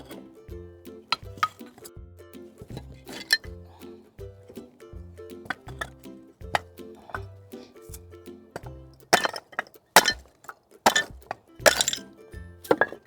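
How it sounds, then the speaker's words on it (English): Terracotta pots and garden debris are smashed for a bug hotel on an allotment, giving sharp clinks and cracking breaks, scattered at first and growing into louder clustered impacts over a rhythmic background. "Some things are a bit too big, so I'm just smashing it."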